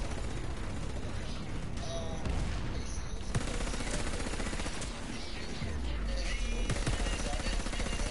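Sustained gunfire from a multi-fire-mode gun in Warface, dense, rapid and continuous, with bursts and impacts layered over a loud combat background.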